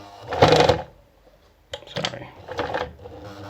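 Pfaff 210 sewing machine set to a short 1.5 stitch length, running in two brief mechanical bursts separated by a pause, close and moderately quiet.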